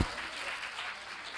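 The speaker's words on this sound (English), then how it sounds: "can we give her a clap, please?" Conference audience at an early childhood education panel bursting into applause, many hands clapping in a steady, moderately loud wash that starts abruptly and holds evenly.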